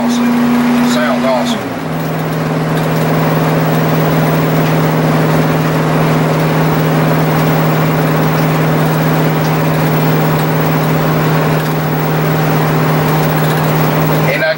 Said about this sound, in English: that Banks power exhaust gives it kind of a meaty sounding exhaust